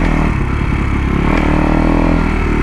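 A Kawasaki KX 250 four-stroke dirt bike engine runs close and loud as it is ridden, a steady throbbing drone with slight shifts in throttle throughout.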